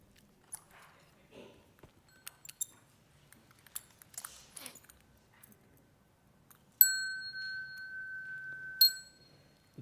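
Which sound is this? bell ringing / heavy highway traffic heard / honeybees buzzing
bell ringing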